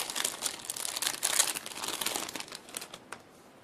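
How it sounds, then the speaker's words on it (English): Plastic protective wrapping crinkles and crackles as it is peeled from a new phone with a slide-out QWERTY keyboard, close and continuous, with dense irregular crackles that thin out toward the end. "It's covered in protective wrappings here."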